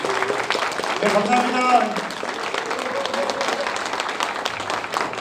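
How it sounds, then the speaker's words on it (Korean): Audience applause at a live political talk event in a chamber of commerce hall, sustained clapping from the crowd with a brief spoken thanks over it. "다시 한번 뜨거운 박수 부탁드립니다"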